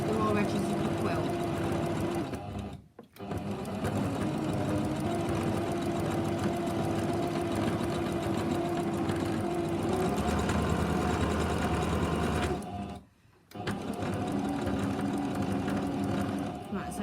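A sewing machine runs in long steady stitching bursts while attaching binding to a quilt edge, briefly stopping twice; a person talks over the close, humming motor.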